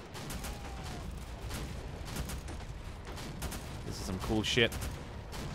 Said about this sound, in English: APC's taking heavy fire up here.